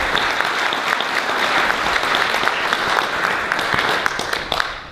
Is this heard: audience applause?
yes